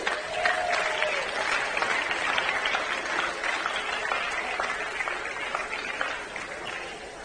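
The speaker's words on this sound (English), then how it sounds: "please give him a round of applause, Archibald Anolik." A crowd applauds the boys under 11 prize winner at a youth tennis awards ceremony at Frans Otten Stadion in Amsterdam. Steady, moderately loud clapping continues throughout and tapers slightly at the end, with faint voices underneath.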